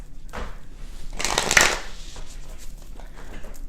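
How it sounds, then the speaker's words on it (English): A deck of cards is shuffled by hand: a close riffle of rapid papery flutters peaking in a short burst, then quieter shuffling and tapping. "as you can see, I'm not a very graceful shuffler"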